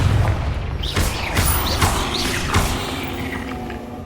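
Confringo blasting spell in Hogwarts Legacy, a fiery explosion with a deep boom and crackling debris over steady game rumble, followed by a couple more thuds, moderately loud.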